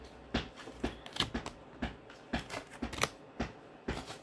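Tarot cards are shuffled and drawn in a quiet room, with a regular series of crisp, close card snaps and flicks, about eight to ten in quick rhythm.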